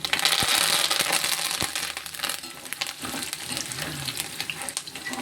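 Masala-coated peanuts frying in hot oil with a couple of curry leaves dropped in, giving a steady broadband crackling sizzle with a few sharp pops, loudest at first and settling into a softer bubbling hiss.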